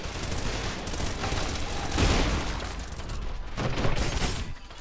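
Enemy weapon firing in the video game Trepang2, dense bursts of gunfire and booming impacts in a busy, loud game mix with no clear gaps.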